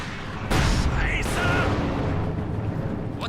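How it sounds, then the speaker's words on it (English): Assault guns and mortars fire in a Company of Heroes 2 1v1 match, a heavy boom hitting at the start followed by rumbling blasts and crackling explosions, with a commentator talking over the battle. "3 assault guns opening up with a vengeance"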